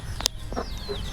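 A hen clucks a few short, separate notes close by, with sharp clicks and a thin whistling chirp in the background.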